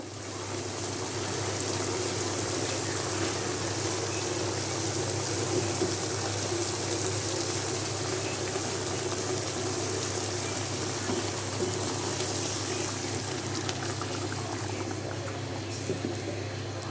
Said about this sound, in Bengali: ঝোল দিয়ে দিব, এখন মাছও দিয়ে দিব।